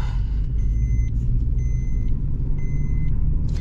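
Interior of a Maruti Suzuki Ignis car on a mountain road in Spiti Valley: a steady, loud low engine and road rumble throughout, with faint repeated electronic chimes.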